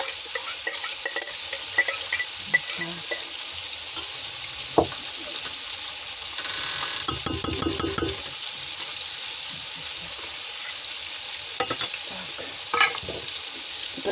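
Marinade ingredients for silver carp being stirred together in a bowl, a steady close scraping and swishing with a few light clinks and brief louder clatters, no speech.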